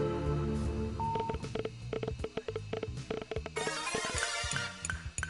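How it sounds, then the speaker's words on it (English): Dial-up modem noise from the video game 2064: Read Only Memories, a run of beeping dial tones followed by a burst of hissy, screeching handshake static, played alone with no talking. "Why does it sound like dial-up?"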